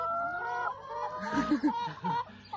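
Several chickens cluck and murmur nearby, a short burst of choppy clucks rising in the middle amid soft background chatter from the flock.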